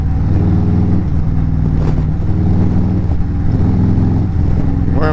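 A Harley motorcycle fitted with an RBW Skull riding-mode module pulls hard through the gears in traffic, a loud, close, continuous rumbling engine drone with steady throttle and no speech over it.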